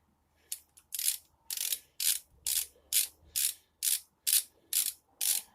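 A ratchet wrench tightens bolts on a 1999 Ford F-150, giving about a dozen crisp, evenly spaced clicking strokes, close and loud, with short pauses between each pull.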